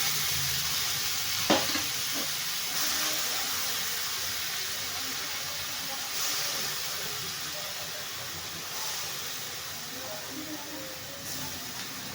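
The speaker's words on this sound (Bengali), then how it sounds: "আমি আজ পাট শাক ভাজছি" Jute leaves fry in a pan with garlic and chilli, giving a soft, continuous sizzle and hiss, with a faint knock early on and gentle stirring noises throughout, no talk.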